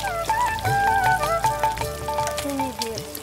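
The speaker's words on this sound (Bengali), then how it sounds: "এখন ফ্যাটানো টক দই দিচ্ছি 2 চামচ মতো" Whipped sour yogurt going into a hot frying pan with spices, bursts of sizzling and frying crackle under a busy kitchen scene with tonal background music and brief stirring clatter.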